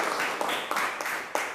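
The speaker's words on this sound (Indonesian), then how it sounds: "tepuk tangan untuk Fahmi" A classroom of students claps for a classmate named Fahmi during a teaching-practice lesson, a short burst of dense, fairly faint applause with a few sharper claps standing out.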